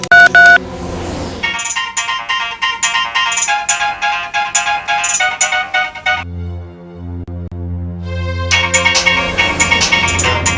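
A telephone tone plays in a family drama scene: a loud, steady, melodic electronic ringing pattern repeats in bursts, pauses briefly with a low hum, then resumes. No one speaks.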